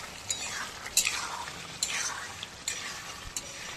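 A curry is stir-fried (koshano) in a pan, with a quiet sizzle and a few distinct scrapes and clinks of the spoon against the pan at irregular intervals, close and soft, with faint murmuring.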